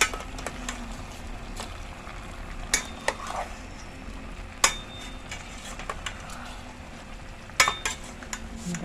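A pot of boiling Filipino chicken stew in tomato broth (kinamatisang manok) is stirred with a utensil, giving soft bubbling and scraping with a few sharp clinks of metal against the pot, close up, with no talking.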